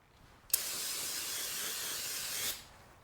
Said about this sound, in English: Let me get some brake clean.